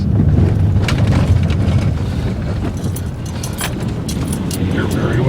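A car cruises along a mountain road at about 9,000 feet, with a loud steady low rumble of engine and road noise under the cabin and people talking over it.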